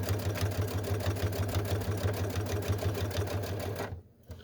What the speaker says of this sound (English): I'm going to go ahead and sew to the corner